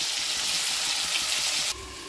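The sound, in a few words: potatoes and cauliflower frying in hot oil in a wok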